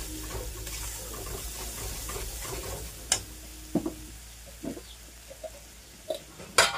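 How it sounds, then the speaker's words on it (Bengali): A spice paste for an egg korma with coconut milk fries and is stirred in a pan, a low steady sizzle broken by several sharp spatula scrapes and knocks toward the end, close by with no speech. "মশলাটাকে ভালোভাবে কষিয়ে নিই।"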